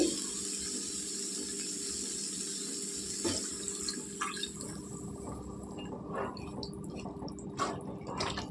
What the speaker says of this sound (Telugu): నీళ్ళు వేసుకోవాలండి